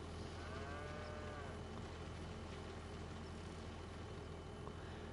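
Cattle in a Farming Simulator 25 herd moo faintly over a steady low engine-like drone after being given feed, with a few drawn-out calls early on.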